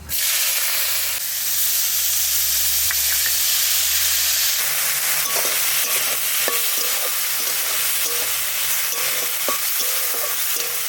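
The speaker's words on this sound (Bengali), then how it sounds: "ভাজা করব তেল দিচ্ছি চিংড়ি মাছটা নুন হলুদ দিয়ে মাখিয়ে নেবো" Shrimp coated in salt and turmeric frying in oil in a home kitchen, a steady loud sizzle with crackling pops that continues throughout with no talk.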